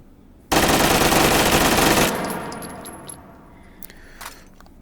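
A Russian submachine gun fires a sustained, loud automatic burst in the VR shooting game Hot Dogs, Horseshoes and Hand Grenades, then the echo fades and a few light metallic clinks follow.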